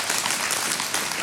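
Brief burst of congregation applause inside a church, a dense wash of many hands clapping at steady volume for about a second, with no voices over it.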